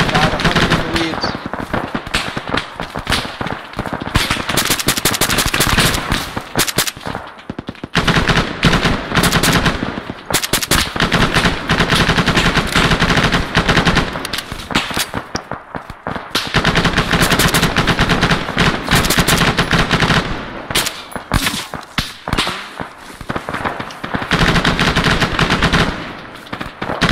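Sustained machine gun fire during a field exercise at Taunus, loud rapid bursts rattling almost continuously with short gaps, close and dominant, with voices faintly underneath.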